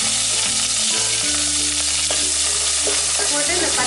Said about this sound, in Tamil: இந்த பச்சை மிளகாய் கொஞ்சம் பொரிக்கங்க